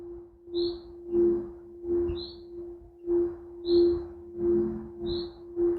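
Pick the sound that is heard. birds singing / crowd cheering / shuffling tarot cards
birds singing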